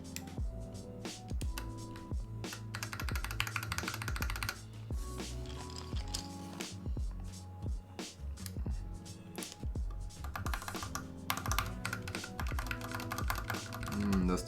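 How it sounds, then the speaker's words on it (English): Plastic keycaps being pushed onto switches of a Novelkeys NK65 mechanical keyboard with Tealios switches, heard as a steady stream of close clicks and clacks with faint background talk. "Put on the keycaps."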